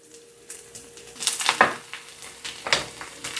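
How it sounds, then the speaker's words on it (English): Garlic sizzles and crackles softly in olive oil in a pan, with irregular bursts of louder hissing and stirring noises, no talking. "the garlic is starting to sizzle"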